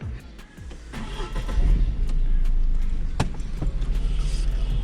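A Tata Tiago hatchback with over 100,000 km: a few clicks and thumps, then the engine hums steadily and close by, a continuous low drone that swells slightly as it settles into running.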